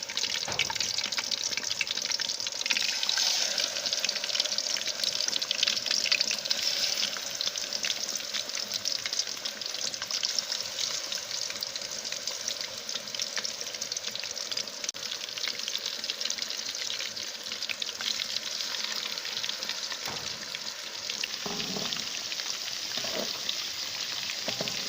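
Sheela fish frying in hot oil, cooked village style, giving a loud, continuous sizzle and crackle throughout with a few faint stirring knocks near the end.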